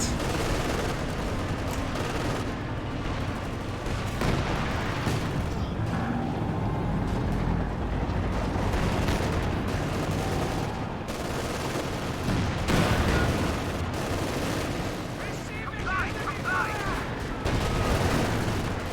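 Dense, continuous battle noise from the strategy game Company of Heroes 2, with overlapping bursts of gunfire and heavy tank cannon fire. The firing stays loud for the whole stretch, with rattling volleys and booming impacts and no pauses.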